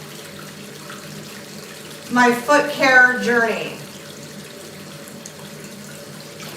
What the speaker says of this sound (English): I'm going to run the water